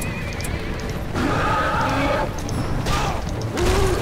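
Horses neigh in a Lord of the Rings strategy battle game: several loud whinnies in turn over a constant rumble of battle noise and hoof movement, fairly close.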